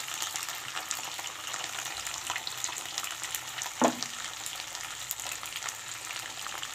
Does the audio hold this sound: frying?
yes